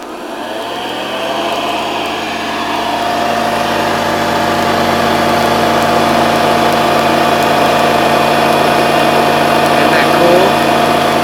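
A 1974 Hoover Custom Convertible Model 4007 vacuum cleaner switches on and its motor rises within about two seconds into a loud, steady whining hum that runs on alone.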